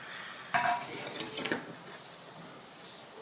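A metal lid lifts off a pot of potato curry with a short cluster of clinks and clatters, then the kitchen goes quiet apart from a faint background hiss.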